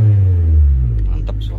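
A 2012 Toyota Camry 2.5 V revs its engine, a strong low droning note that sweeps down and settles into a steady rumble, close and loud, with faint clicks and noise toward the end.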